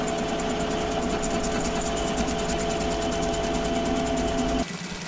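A tractor-mounted stump grinder working a tree stump, a steady loud mechanical drone with rapid rhythmic chatter that continues throughout, then drops slightly in level near the end.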